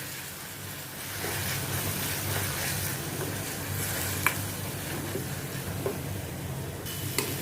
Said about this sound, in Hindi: इनको अभी मैं थोड़ा सौते करती हूँ और प्याज का कलर थोड़ा गोल्डन ब्राउन हो जावे।